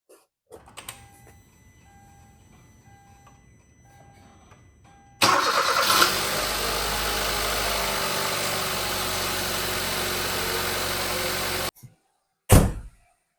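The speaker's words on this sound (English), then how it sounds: "All right, so the car started up great." Cranking briefly in a garage, a Kia Rio engine fires up and runs at a steady idle for several seconds, then cuts off before a short burst of noise at the end.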